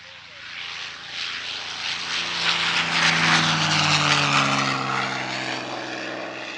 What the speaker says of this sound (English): now let's look at a second P-51D Mustang, this time Miss Helen,